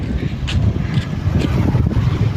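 Strong gusting wind roars steadily outdoors during heavy rain, a loud, continuous low rumble that buffets the microphone for the whole stretch.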